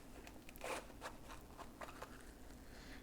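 A zipper pulled on a small logo-branded pouch for a Zhiyun gimbal, a few quick close rasping zips in short bursts over a quiet room.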